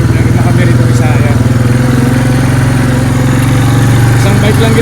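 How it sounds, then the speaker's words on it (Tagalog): A farm motorbike on a New Zealand dairy farm runs at a steady idle close by, its engine putting out a loud, even throbbing drone while someone talks over it. "isang bike lang ginagamit namin para medyo tahimik yung aming pag-ikot"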